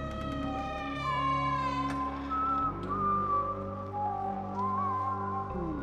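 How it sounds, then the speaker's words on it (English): Inside an empty school at night, someone whistles a wavering, drifting melody over low sustained tones, steady and fairly loud, with no speech. "I started searching to see where this whistling was coming from."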